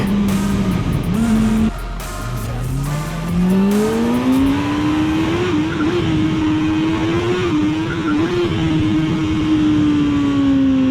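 Kawasaki Versys 650 motorcycle lapping a track, its engine note climbing and dipping through gear changes, loud and close throughout with a brief lull near the start, no talk.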